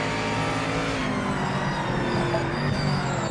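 A GT race car in the sim racing game PMR (GT Icons pack) roars at high revs, a loud, continuous engine drone sitting close with steady rising harmonics.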